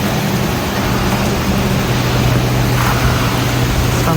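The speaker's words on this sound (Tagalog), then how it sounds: "Oh my God, umuulan na naman oh" Heavy storm rain pours in a continuous dense roar, with a low steady hum running underneath and no one speaking.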